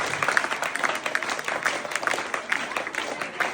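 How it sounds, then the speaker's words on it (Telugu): An audience clapping in a hall, a dense burst of applause from many hands at moderate distance, with some talking mixed in. "Please clap."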